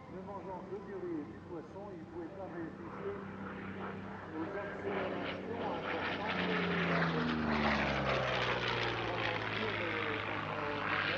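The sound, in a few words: P-40 fighter plane propeller engine flying at airshow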